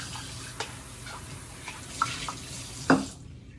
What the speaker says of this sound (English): I'm going to just rinse out my measuring cups that I did with the flour.